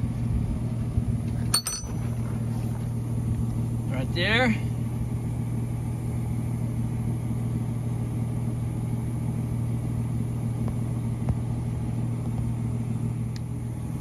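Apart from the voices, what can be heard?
pickup truck engine running as it pulls up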